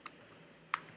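Keys clack on a computer keyboard during a programming lesson: a few separate sharp taps, quiet and close, with a pause between them and no voice.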